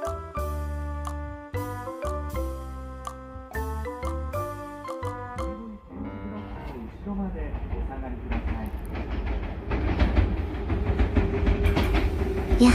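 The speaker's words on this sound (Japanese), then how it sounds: "やはり電車が向かってきているの、端っこから眺めるのは最高ですね。" A train rolls into Ashikagashi Station in Japan with rhythmic clicking wheels and a bell chiming, the screech and rumble growing louder as it draws near; people talk in the background.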